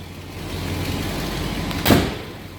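Hidden headlight doors on a 1968 Ford XL Fastback swing shut with a short mechanical clunk and whir, over the steady idle of the engine.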